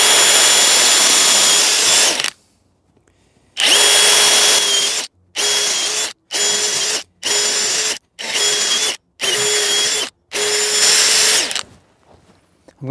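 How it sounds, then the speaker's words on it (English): Power drill with an 8mm bit drilling through wood in a series of bursts: a long first run, then several short repeated pulses with brief pauses between, loud and close, no talking. "now I'm going to drill the holes."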